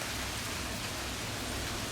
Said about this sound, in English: Oh, it's raining so much.